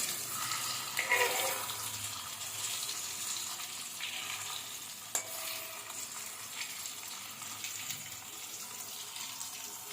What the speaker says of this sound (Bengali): পটলগুলো হালকা করে ভেজে নেবো।